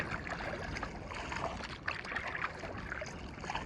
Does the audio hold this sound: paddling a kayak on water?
yes